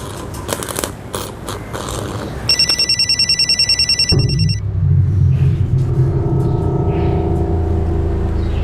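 A telephone rings in a rapid repeated trill for a couple of seconds after some rustling and clatter, then gives way to a low rumbling drone.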